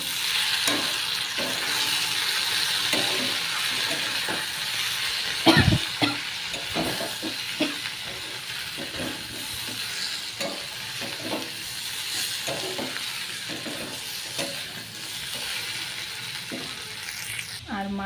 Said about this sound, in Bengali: এবার আলুটার সাথে ভালো করে মিশিয়ে নেব